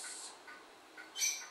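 A 10-month-old painted conure parrot gives several short, high squawks and chirps, close and fairly loud, ending on a sharper, stronger call.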